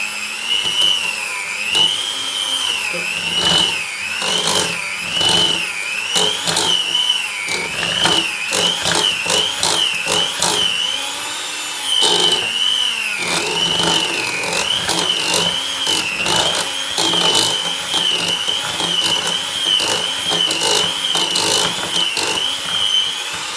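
An electric whisk beats Tardis cake mixture as milk is added spoonful by spoonful, a steady close whirring drone that rises and dips with repeated short bursts and slight clatter, with no talk over it.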